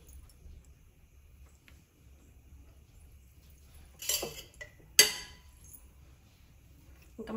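A metal spoon clinks against a dish while gongura pickle is served, two sharp clinks and a smaller tap standing out against a quiet, faintly humming room.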